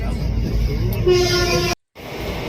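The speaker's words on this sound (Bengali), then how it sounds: "ট্রেন চলতে শুরু করলো" A train pulls away from Rampur station with a loud, steady rolling rumble, a tonal horn sounding partway through, and then a sudden brief cut to silence before the rumble resumes.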